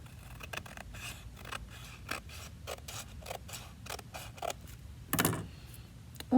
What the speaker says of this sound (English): we're just going to trim off that edge